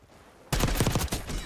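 Gunfire from a video game, a sudden loud burst of rapid automatic shots breaking in after a short quiet stretch and continuing to the end.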